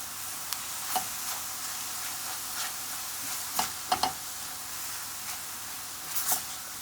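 Garlic being stirred into mushrooms sautéing in a pan, with a steady bright sizzle and scattered clicks and scrapes of the utensil against the pan.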